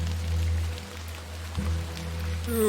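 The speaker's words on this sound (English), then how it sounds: "A bit of rain won't kill me," Rain falls in an adventure video game, a steady soft hiss of drops under a low ambient drone, with no talking.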